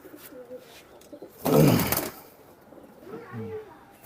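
Tippler pigeons coo softly close by, with a brief rustling burst like wings flapping in the middle, in an Indian pigeon loft.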